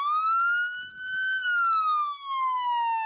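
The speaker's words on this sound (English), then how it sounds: "even turning on the siren" A police car siren wails alone, loud and close, in long sweeping rises and falls of pitch across the whole stretch.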